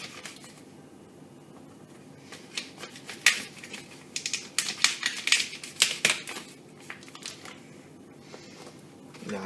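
A knife cuts through crispy cooked meat in a home kitchen, giving a run of dry, crunchy crackles and scrapes that build up in the middle and trail off, close and moderately loud.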